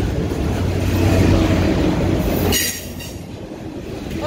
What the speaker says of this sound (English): Look at the engines of this train.